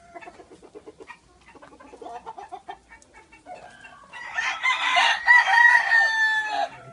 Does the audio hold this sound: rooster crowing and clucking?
yes